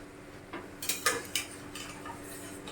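Cooked paya being transferred into a metal vessel, a few light clinks and scrapes of utensils against the pot, quiet and close with no voices.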